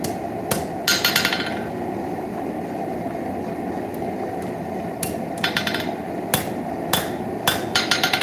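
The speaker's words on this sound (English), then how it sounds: "Hammered into the crook of my anvil." Hammer blows on a railroad spike held in the crook of a blacksmith's anvil ring out as sharp metallic strikes, some in quick clusters and others spaced apart, over a steady loud background roar, close and with no talk.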